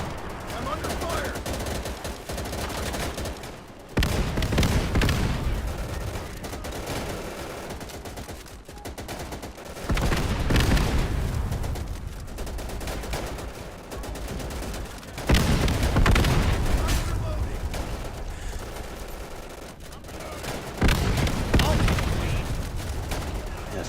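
Dense gunfire from a World War II shooter game, Easy Red 2: sustained rifle and machine-gun volleys roll in waves with booming bursts, loud and continuous across the whole stretch, with shouted voices mixed in among the shots.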